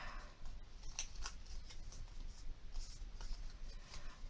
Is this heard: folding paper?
yes